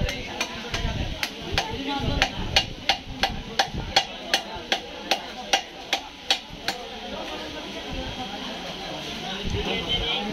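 A large boal catfish of about seven kilograms is chopped with a blade in a fish market. The strikes land in a steady run of sharp, evenly spaced thuds, loud and close, with chatter and market noise behind them.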